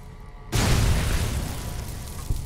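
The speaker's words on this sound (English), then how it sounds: "That's a really big explosion." A large explosion in the video game Fallout: New Vegas bursts suddenly with a loud deep boom, then rumbles and slowly fades, with a second smaller thump just before the end.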